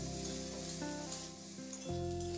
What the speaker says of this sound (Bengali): এবার বেগুনটাকে বেশ লাল লাল করে ভেজে নেব